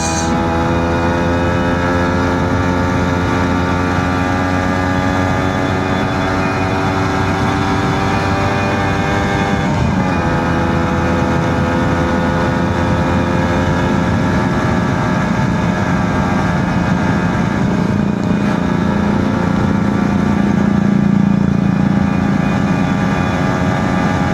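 Motorcycle engine strains on a steep uphill climb during a touring ride, a loud, continuous, steady-pitched drone with harmonic whine that lasts throughout and rises slightly in roughness near the end.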